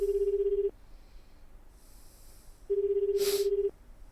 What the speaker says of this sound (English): I shifted through the sales slips, read all the number off of one, and made a phone call.